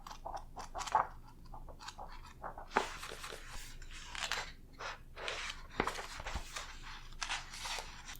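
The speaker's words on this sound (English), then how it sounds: "I just love the sound of page turning." Pages of a dream dictionary turn softly and close to the ear in a quiet room, a series of papery rustles and flicks with brief pauses between them.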